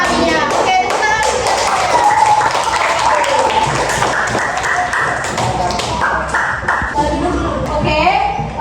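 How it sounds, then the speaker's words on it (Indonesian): A classroom of students claps hands together, a busy stretch of overlapping claps and taps with some voices mixed in, fairly close and loud throughout. "Oke, tepuk tangan."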